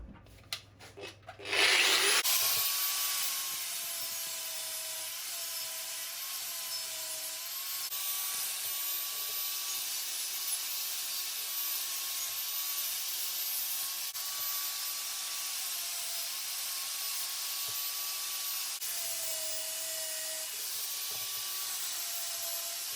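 Abrasive smoothing of a part on a BMW E34 M5 S38 alternator during restoration: a steady, close, continuous high grinding-rub that runs unbroken for about twenty seconds after a brief start, with no talking.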